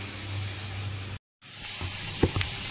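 A pointed gourd and poppy-seed dish set on to cook in a pan gives a soft, steady sizzle, cut by a short silence, followed by a few light clinks and stirring sounds close by.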